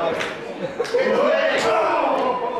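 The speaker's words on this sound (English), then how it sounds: "Sunset Skip getting this crowd behind him" A crowd at a live wrestling match cheers steadily throughout, with a few sharper shouts rising from the noise and a commentator's voice running over it.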